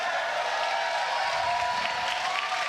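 A large crowd at the Fortnite Summer Skirmish grand finals at PAX cheers and applauds steadily, a dense wash of clapping and voices with no breaks.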